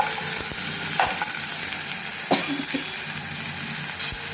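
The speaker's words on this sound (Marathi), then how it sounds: "एक मिनिट चांगलं असं परतून घ्यायचं त्या तेलात" Prawns being stirred and sautéed in hot oil in a pan: a steady close sizzle with scraping stir strokes recurring every second or so, and no talk.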